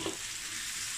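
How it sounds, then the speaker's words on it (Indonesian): Onions sautéing in a pan until brown, giving a brief, continuous close sizzle with no talk. "Biarkan bawang kita tumis dengan berwarna brown."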